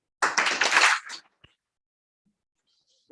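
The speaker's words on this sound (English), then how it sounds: "Can everybody clap?" Group of people at a Bhagavad Gita satsang gathering in Gachibowli give a brief burst of hand clapping lasting about a second, then silence with a single faint tap and another clap starting at the end.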